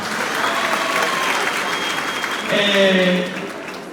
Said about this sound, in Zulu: Ngicela sishaye ihlombe kuleyo ndawo